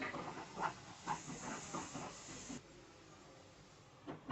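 Mushrooms fry in a covered pan, giving a soft steamy hiss with a few faint rhythmic spatters, quiet and muffled, with no one speaking.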